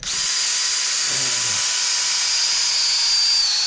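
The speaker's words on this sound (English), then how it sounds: "Still tons of resistance there with the drill." A resistance drill bores into a dead oak tree with a steady, loud high-pitched whine and hiss that holds throughout, pitch shifting slightly as the bit meets resistance.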